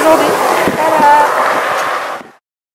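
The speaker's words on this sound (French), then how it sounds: "Un peu venteux aujourd'hui." Loud, gusty wind in Uzbekistan roars against the microphone at close range, then cuts off abruptly.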